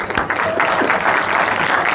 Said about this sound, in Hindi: तालियां बजाओ रग्बी के लिए